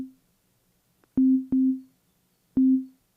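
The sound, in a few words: sine wave bass synth triggered by kick drum in Ableton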